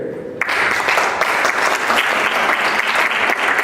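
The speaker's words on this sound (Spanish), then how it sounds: "a quien pido un fuerte aplauso para él" Loud, close audience applause at a medical talk welcoming a doctor presenting on cosmetic microsurgery for visible hand veins, bursting in after a brief quiet moment and holding steady to the end.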